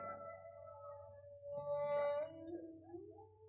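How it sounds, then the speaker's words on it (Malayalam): A dog howls at night, one drawn-out, wavering howl that rises and falls over a low background hum, fairly faint and not close by. "എവിടൊക്കെയോ പട്ടികൾ ഓലിയിടണു."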